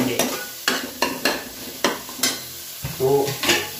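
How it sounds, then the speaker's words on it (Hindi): Lentils tipped into a hot kadhai of sizzling tomato-onion masala for dal makhani and stirred, a run of sharp spoon-scrape and stirring strokes over a steady frying sizzle, with no talking. "तो अब हम इसमें दाल डालेंगे।"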